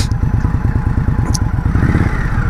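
An Indian Scout Bobber motorcycle on a test ride pulses with a steady, loud, close engine throb, its rapid low firing beat holding even throughout with slight clatter over it.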